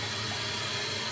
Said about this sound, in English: It hasn't even been flushed, but you see it's still running.